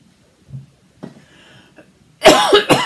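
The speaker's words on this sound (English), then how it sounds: "This cough is driving me insane" A woman coughs at a craft table, a soft throat sound then a few rough bursts before two loud, close hacking coughs at the end, with no talk.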